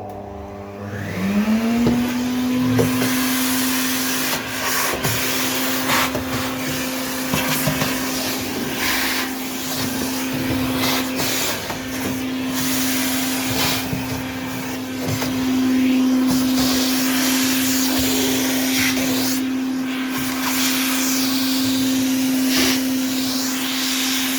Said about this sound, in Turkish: Elektrik süpürgesiyle güzelce süpürüyorum.